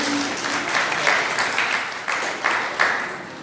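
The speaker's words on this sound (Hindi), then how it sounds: "जोरदार तालियों से स्वागत करते हैं।" Applause at a senior citizens' committee honour ceremony in Sojat Road, Pali, as guests are welcomed; a steady wash of clapping from a seated audience, moderately loud and continuous throughout, with a few brief surges.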